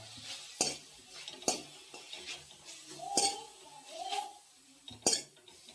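Pathri greens with salt are stirred in a pan with a metal utensil, giving sharp scrapes and clinks roughly every second, close up over a faint sizzle.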